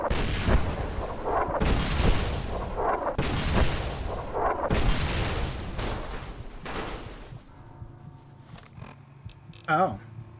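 Video game artillery fire lands in several heavy, roaring blasts a second or two apart, then fades into quieter rumbling, with a short burst of voice near the end.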